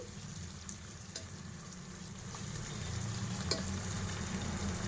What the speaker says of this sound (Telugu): చూసారా ఎలా ఫ్రై అవుతుందో ఈ ఇంగ్రీడియంట్స్ అంతా